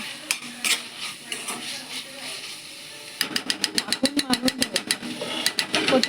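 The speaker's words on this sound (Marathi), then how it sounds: "हे सगळं ढवळून घ्यायचा" Rice with green peas being stirred in a cooking pot, a quick run of regular scraping strokes of a spoon against the metal that follows a quieter stretch of scattered clinks, close and fairly soft.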